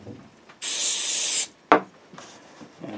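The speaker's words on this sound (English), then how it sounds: "And then we're just going to spray some activator" A spray bottle lets out one steady hiss of glue activator onto wood veneer lasting nearly a second, followed by a sharp click and faint handling noises.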